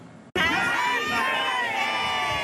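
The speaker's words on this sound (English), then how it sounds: "A crowd of shoppers celebrating 65 years of Giant Tiger in the ByWard Market of Ottawa." Crowd of shoppers cheering loudly at a Giant Tiger 65th anniversary party in Ottawa's ByWard Market, bursting in suddenly after a brief quiet moment and sustaining bright whoops and shouts.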